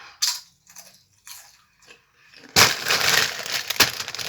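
Doritos chips crunch in several short, sharp bites near the microphone, then a louder, rough rustling noise takes over for the last couple of seconds.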